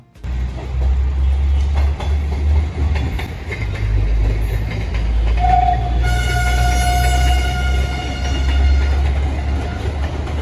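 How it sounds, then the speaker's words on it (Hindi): A train rolls across the old iron Yamuna rail bridge in Delhi, a steady loud low rumble with rhythmic clatter throughout, joined midway by a sustained high metallic squeal and ringing tones from the steel structure. "सामने आप जाती हुई ट्रेन देख रहे हैं तो जरा इसकी रफ्तार पे ना गौर कीजिएगा।"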